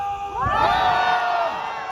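Outdoors at Dongdaegu Station, a rally crowd answers with a loud roar of cheering and shouting, rising sharply after a short call and ringing on densely before easing slightly near the end.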